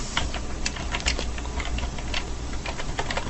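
Keys clatter on a computer keyboard as Control-K and Control-U shortcuts are typed, a steady stream of close, quick taps with no speech.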